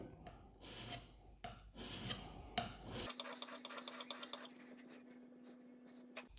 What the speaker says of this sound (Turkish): 800'lük zımparayla da işim bitti